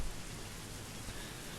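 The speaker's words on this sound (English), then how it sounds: "It's raining, it's night time." Steady rain at night in The Crew racing game during a retro classic car dirt event, a dense even patter and hiss with no speech.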